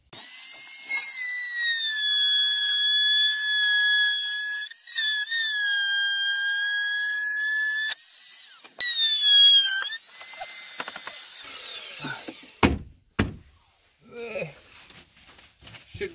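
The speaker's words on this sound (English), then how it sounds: "I'm just going to take my Dremel and cut that out just a little bit" A Dremel rotary tool whines steadily as it cuts foam board inside an RV bathtub, the pitch dipping under load through a few long passes before stopping, followed by scattered clunks and handling noises.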